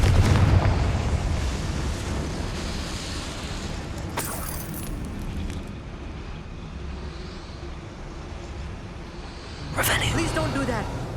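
Fiery Confringo spell blasts in Hogwarts Legacy, played on PS5 Pro: a burst near 4 seconds and another around 10 seconds stand out over a steady rumbling game background.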